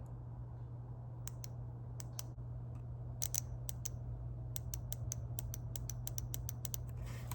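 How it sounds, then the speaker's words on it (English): A fuel injector clicks sharply under test power on a budget LS swap in a G-body, a series of crisp, close clicks growing more frequent over a steady low electrical hum. "the injector should click"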